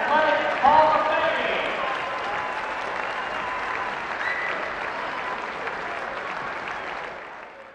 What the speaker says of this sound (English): Let's have one final round of applause for the 2018 class to the NHS Athletic Hall of Fame.